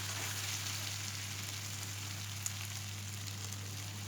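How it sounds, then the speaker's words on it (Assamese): Chicken pieces stirred with ginger and garlic fry in a pan, giving a steady, even hiss that carries on without a break for the whole stretch, with a low constant hum running beneath it and no voices. "এইখিনি মই 2 মিনিটমানৰ কাৰণে এইদৰে ভাজি থাকিম"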